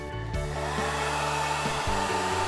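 A heat gun blows hot air across vinyl wrap film on a vehicle's deep-channel body part, a steady, close, unbroken roaring whoosh that holds at an even level throughout with no talking.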